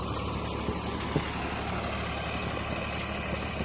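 A tractor pulling a rotavator tills shallowly through a sugarcane field, giving a continuous rough engine rumble mixed with broad grinding noise at a moderate distance.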